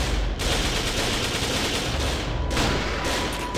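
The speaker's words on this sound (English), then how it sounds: "We got our sniper rifle." Rapid sniper rifle fire in the video game Second Sight, a dense, continuous barrage of loud overlapping shots with sharp bursts near the start and again later, alone with no voices.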